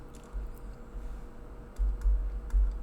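Close, soft keystrokes on a computer keyboard sound over a low background hum, with a few scattered taps and then a quicker run of heavier key presses toward the end.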